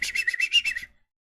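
A human voice imitating a creature's whistling sound, a quick run of about seven bright chirpy pulses in a rapid rhythm, close and clear, fading out within a second.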